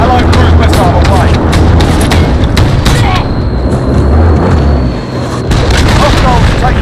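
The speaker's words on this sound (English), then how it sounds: "Allied cruise missile away." A cruise missile strike in Call of Duty Modern Warfare Ground War, heavy booming blasts and rumbling explosions, very loud and continuous, with sharp crackling bursts layered over a dense low roar.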